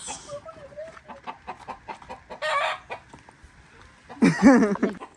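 A hen clucks up close in short, agitated bursts as it is caught, ending in a loud squawking flurry.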